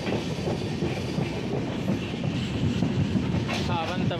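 Mandovi Express running on LHB coaches, a steady loud rolling rumble with rhythmic clickety-clack of wheels over rail joints and a brief squeal near the end, heard from on board.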